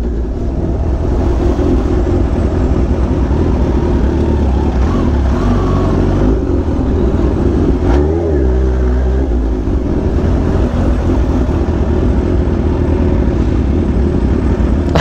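A Kawasaki Ninja H2 motorcycle rides through crowded Hollywood streets near the Walk of Fame, its loud engine droning continuously up close with rising and falling revs and steady road and wind rush.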